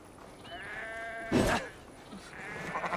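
A single sheep bleats loudly in the video game Assassin's Creed Valhalla, a short wavering cry over a quiet, steady background hum.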